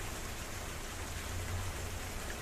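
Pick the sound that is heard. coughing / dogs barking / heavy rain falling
heavy rain falling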